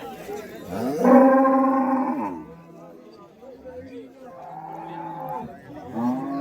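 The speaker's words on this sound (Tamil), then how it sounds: "ஸோ ரெண்டுமே பார்த்தீங்கன்னா உழவு காளைங்க." Plough bulls at the Vaniyambadi cattle market give a loud, close, drawn-out moo followed by a second, quieter low call, with voices nearby.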